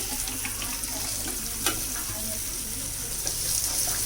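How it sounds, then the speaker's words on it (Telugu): Ivy gourd curry sizzles steadily in a hot pan, with scraping and clinks as a utensil stirs it a couple of times, fairly quiet and without voices. "ఒకసారి కదిపి అడిగంట వస్తుంది కాబట్టి ఒక్కసారి కదిపేసి"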